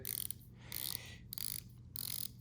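A quiet, close ratcheting click as a dive watch bezel is turned in bursts, several short runs of fine mechanical clicks separated by brief pauses.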